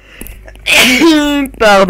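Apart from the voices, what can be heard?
sneeze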